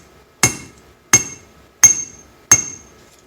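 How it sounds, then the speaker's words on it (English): Four sharp metallic hammer taps from a cross peen hammer creasing a fuel line over a die land at an even, deliberate pace, each ringing briefly before the next; close, clear, with no voices. "just take my hammer and very carefully"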